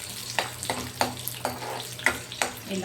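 Peanut chutney ingredients fry in a pan, giving a soft sizzle broken by regular scraping stirs about every half second, close and fairly quiet.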